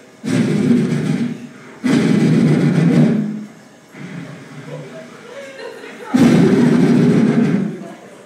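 A voice imitates watery diarrhea as a comedy bit, producing several loud, sputtering bursts with short gaps between them.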